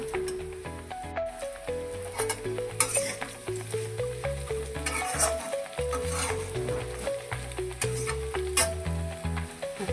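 Maggi noodles frying with spices in a pan, a continuous close sizzle with stirring scrapes and soft crackles throughout, nobody talking.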